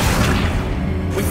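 A swishing whoosh from the Accio summoning spell in the video game Hogwarts Legacy, a steady, dense swoosh lasting just over a second with a low rumble underneath.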